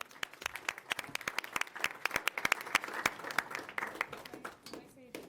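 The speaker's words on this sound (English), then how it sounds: "Give all of them one more big round of applause," A room full of people applauds at a Sacramento Regional Transit District board meeting, dense overlapping claps of moderate loudness with some voices mixed in.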